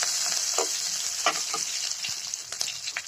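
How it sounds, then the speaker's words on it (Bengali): Chopped onion, green chili and garlic frying in oil for a spinach dish, with a steady hissing sizzle and occasional soft stirring scrapes, close and even. "এগুলো তেলের উপরে দিয়ে কিছু সময় ভেজে নেব"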